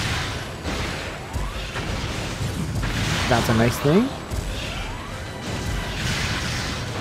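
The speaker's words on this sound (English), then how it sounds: "So it freezes up those wasps, makes them drop to the floor and shatter." In Metroid: Other M, wasps frozen by a charge beam crack and shatter as they drop, a series of sharp bursts and crashes over game noise and a short spoken comment.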